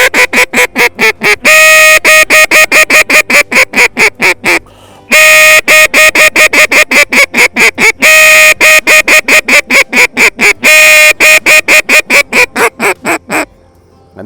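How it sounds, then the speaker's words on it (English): A duck call blown loud and close in rapid bursts of quacks, pausing briefly, then resuming in fast, pleading runs. "you blow what is called a comeback call"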